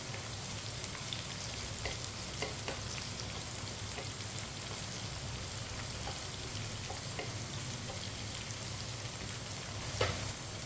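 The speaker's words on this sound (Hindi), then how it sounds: "सब्ज़ मिर्च को 1 मिनट के लिए जैसे हम थोड़ा सा पका लेंगे" Finely chopped green chillies fry in a pan with potatoes and okra set aside, a steady crackling sizzle with occasional sharp pops and a few faint clicks.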